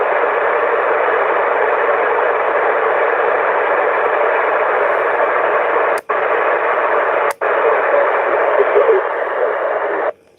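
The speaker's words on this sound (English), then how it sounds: "When you hear that digital noise, I know when the skip starts to come in." CB radio receiver tuned to channel 11 during skip conditions, giving steady loud hissing backscatter static with two abrupt brief dropouts before it cuts off.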